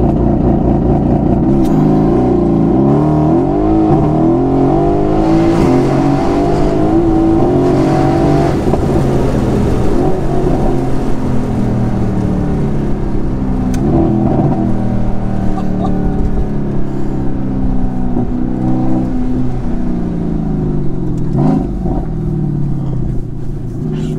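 A Mercedes-AMG GT S Stage 2 launches hard on launch control, its engine roaring loud and close, climbing through rising revs and gear changes in a continuous, powerful pull.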